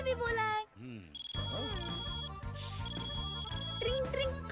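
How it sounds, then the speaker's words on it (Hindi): A mobile phone ringtone plays loudly in a Hindi film scene, a bright electronic melody with sustained tones and repeating beeps, with a voice speaking over part of it. "ट्रिंग ट्रिंग, कान फट रहा है, क्या बकवास रिंगटोन है, तेरे बाप का फोन है, उठा"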